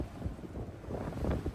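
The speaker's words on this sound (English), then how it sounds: "What's that gust?" A strong wind gust buffets a sailing catamaran moored at anchor off the Croatian coast, a rough, rumbling roar of wind on the microphone with low water and hull noise, swelling near the end.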